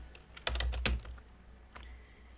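A few quick keystrokes on a computer keyboard as a search term is typed, with soft, close clicks in a short burst followed by one more tap.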